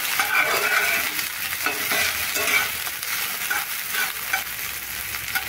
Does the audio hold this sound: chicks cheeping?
no